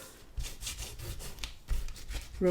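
Paper edge rubbed onto adhesive while assembling a small mini album, a few soft, close, faint scratchy strokes.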